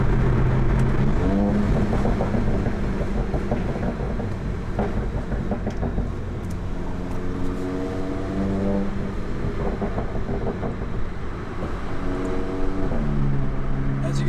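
Volkswagen Mk7 GTI engine droning steadily inside the cabin while driving, with gear changes that shift the pitch of the engine tones and a constant road rumble throughout, close and loud.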